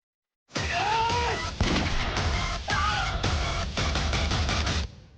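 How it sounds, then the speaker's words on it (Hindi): Gunfire aimed at a policeman during a hostage standoff in a crime drama, a sudden loud burst followed by several sharp, reverberant shots and cracks over about four seconds, with faint voices mixed in. "पुलिस वाले पे गोली चला दी?"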